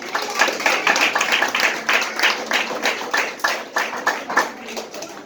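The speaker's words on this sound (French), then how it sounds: "je vous prie de l'applaudir chaudement, s'il vous plaît" Warm applause from an audience at a school ceremony, a steady patter of many clapping hands that stays fairly loud throughout with no talking.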